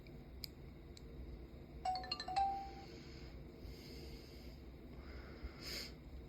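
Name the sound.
voice recorder power-on chime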